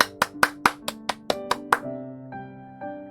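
Clapping of thanks during a church worship service: about nine sharp, evenly spaced claps, close and resonant, trailing into a sustained tonal ring afterward.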